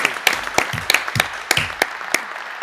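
A live audience at the Koblenz launch of a nationwide vocational-training summer event breaks into applause, a burst of mixed clapping with sharp individual claps standing out, steady for a few seconds with no one talking.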